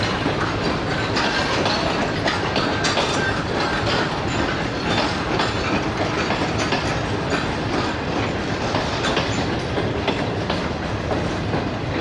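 Bulleh Shah Passenger train on the Lahore–Kasur–Pakpattan line rolls steadily on the rails, a loud, continuous rumble with rhythmic clickety-clack of wheels over joints and occasional faint wheel squeal, no voices.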